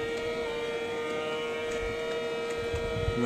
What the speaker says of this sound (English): A siren in the distance.